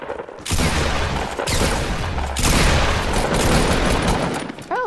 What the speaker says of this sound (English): I shot him so many times!